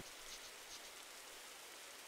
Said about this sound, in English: And rain continues to fall.